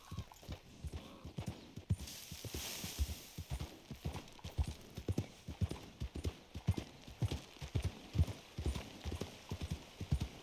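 Horse hooves clip-clop in a steady trotting rhythm, drawing a stagecoach on a town street in Red Dead Redemption 2. The beats are close and fairly quiet, with a light rolling background.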